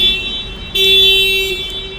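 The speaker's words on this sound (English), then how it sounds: "The alarm will fire off." Honda Civic car alarm set off by a bang on the door keyhole: a steady, loud electronic tone that steps up sharply in volume partway through and holds, close by with no voices.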